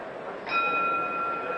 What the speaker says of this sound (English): Bell for round 3.